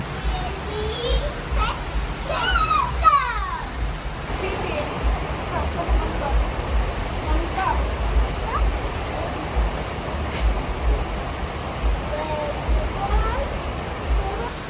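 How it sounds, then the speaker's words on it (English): Heavy rain pours steadily on a wet day out near the beach, a constant broadband hiss, while children's voices and shouts rise intermittently through it. "And the rain is pouring."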